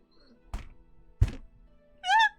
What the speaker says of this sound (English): I heard the desk thump.